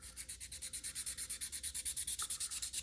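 Finer-grit sandpaper rubs back and forth over the hood of an AMT 1970 Dodge Challenger R/T plastic model kit, making a close, steady, rhythmic scratchy rasp of about twenty quick even strokes with no talking.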